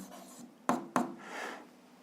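Pen writing a physics solution by hand on paper, with two sharp strokes amid soft scratching, close and quiet with no talking.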